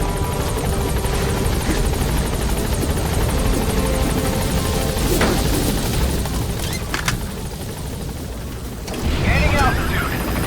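Military transport helicopter lifting off from a landing zone in Metal Gear Solid V, a loud steady rotor roar filling the scene with brief blasts, radio chatter and voices talking over it.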